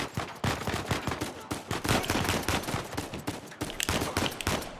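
Dense gunfire in Uncharted 4, with rapid overlapping shots and bursts that crack steadily for several seconds at close range and loud volume.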